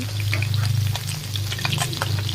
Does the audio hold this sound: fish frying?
yes